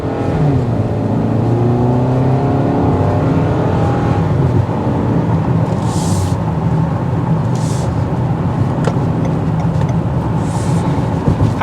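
A 2022 Toyota Camry SE picks up speed, its engine note rising under a loud, steady road and wind roar inside the cabin, then slows under hard braking, with a few faint clicks near the end.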